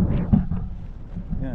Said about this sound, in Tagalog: pasensya na po sa hangin